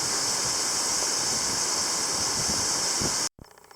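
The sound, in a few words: waterfall in the Alps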